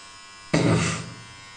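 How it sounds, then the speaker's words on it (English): Electric skull shaver switching on suddenly and buzzing loud and close as it shaves a head down very short, the motor hum fading slightly after a second. "now I'm going in with the skull shaver and make it really, really short"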